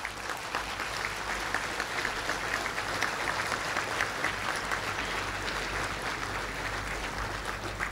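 Graduates at a Bar Council convocation ceremony applaud steadily, a dense, sustained wash of clapping from a large crowd indoors that holds an even level throughout with no talk over it.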